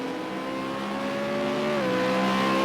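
A race car drives past at speed while retaking the lead, its engine a steady, loud, high-pitched whine that shifts down in pitch as it goes by.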